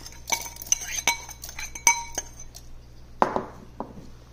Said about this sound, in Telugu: ముందుగా వేసి పెట్టుకున్న పప్పులన్నీ గ్రైండర్లో వేసేసుకుందాము.